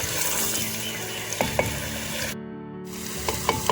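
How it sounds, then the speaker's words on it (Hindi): Potatoes frying with meat in a pot for village-style aloo gosht: a loud, close, crackling sizzle with repeated spoon scrapes and knocks as the pieces are stirred, briefly cut off and then resuming. "तो ये आलू हमने के अभी हैं ऐड, इसको भूनते हैं।"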